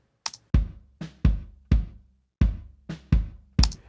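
Soloed second bass drum microphone with EQ applied delivers a rhythmic run of roughly seven punchy kick hits, tighter in the lows with a bright click on each attack, close and dry with no speech.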